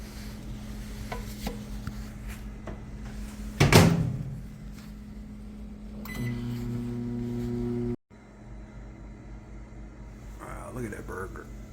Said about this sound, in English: I'll pop this in the microwave for